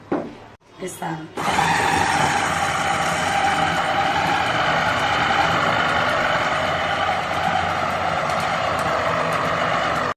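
An electric blender whirring flour batter sweetened with honey: a loud, steady motor drone that starts after a brief burst of voice and runs unbroken to the end.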